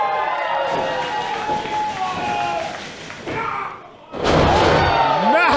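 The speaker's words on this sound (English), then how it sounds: "Massive exploder suplex." A wrestler is slammed onto the mat by an exploder suplex during a WPW Voyageur Cup quarter-final. A heavy, loud thud bursts out of a brief lull, with excited commentary voices and crowd noise around it.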